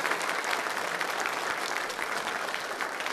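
A congregation at a Catholic Mass claps steadily after the Gospel reading on the feast of Saint Mary Magdalene, a dense, even patter of many hands filling the church without voices.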